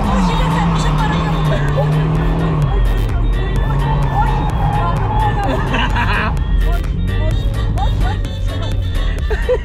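A Mazda MX-5 sports car is out on a drive, its engine droning steadily and loud with shifting pitch as it revs and changes gear, while people talk inside the cabin.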